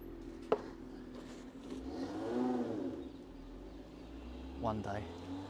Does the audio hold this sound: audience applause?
no